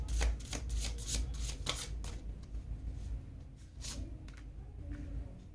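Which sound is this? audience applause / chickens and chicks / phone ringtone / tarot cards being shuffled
tarot cards being shuffled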